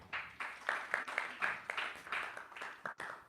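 A church congregation claps together in a sustained round of applause, dense and even, with sharper bursts scattered throughout and a brief dip near the end.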